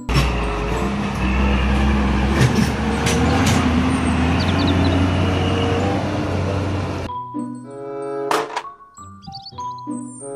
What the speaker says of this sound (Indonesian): mobil, truk, tangki, minyak.